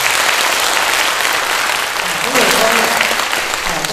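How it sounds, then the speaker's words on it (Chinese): An audience at a Seth lecture in Pingtung applauds a pair of visiting singers, a sustained wash of clapping that holds steady for the whole stretch, with a voice faintly present beneath it. "来鼓掌。"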